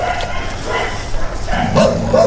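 A dog indoors gives a few close, loud barks and yips in a short burst, with some background noise.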